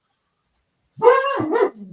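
A puppy barks loudly and close by, one sustained bark-yelp after near silence, trailing into a softer whine.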